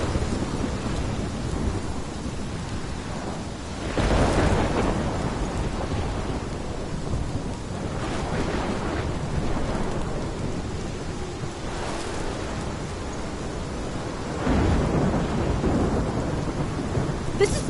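Thunderstorm with steady rain in the video game Life Is Strange: continuous downpour hiss with repeated deep thunder rumbles rolling in at intervals, loud and close, no voices.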